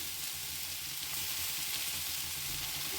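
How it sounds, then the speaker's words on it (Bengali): Ginger garlic paste fries in a pan for loitta shutki bhuna, giving a dense, constant hissing sizzle, close and steady with no pauses. "তারপর পাঁচ মিনিট খানিক্ষণ এগুলো ভেজে নিব দিয়ে দিচ্ছি আদা রসুন পেস্ট"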